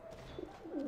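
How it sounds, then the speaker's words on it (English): Pigeons coo softly inside a cage-like coop in the video game Alice: Madness Returns, low murmuring calls that swell briefly near the end, faint and alone. "The coop is really just a cage. But the birds don't seem to mind."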